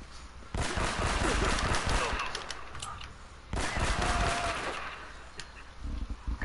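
Heavy gunfire, including sniper rifles, in the video game Uncharted: Drake's Fortune erupts in two long, dense barrages, loud and booming, separated by a short lull with scattered shots.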